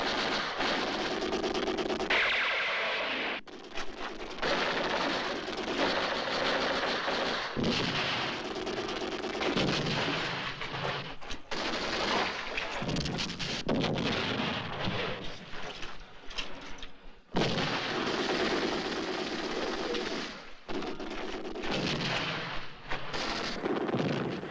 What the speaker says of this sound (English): Lay down mortar fire.